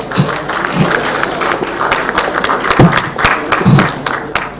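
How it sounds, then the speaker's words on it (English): Conference audience applauds newly inducted club members, steady loud clapping throughout with a few sharper thumps and crowd noise mixed in. "Please give them a round of applause."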